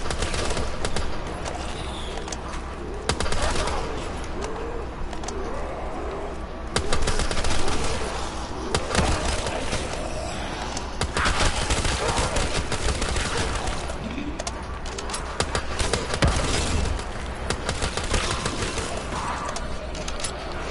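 M14 rifle fire in Black Ops 3 zombies on the Ascension map, with bursts of shots scattered over a busy game mix of effects and ambience, loud and close throughout.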